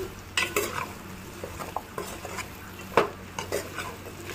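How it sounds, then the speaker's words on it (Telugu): Okra pieces are stirred in a pan with a spatula, giving repeated scraping clatters and metallic knocks in an uneven rhythm over a soft background sizzle. "ఇప్పుడు శుభ్రంగా కడిగి కట్ చేసుకుని పెట్టుకున్న బెండకాయ ముక్కలు వేసుకోవాలి. వీటిని ఒకసారి గట్టితో కలుపుకోవాలండి"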